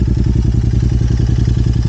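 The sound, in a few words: motorcycle engine starting and running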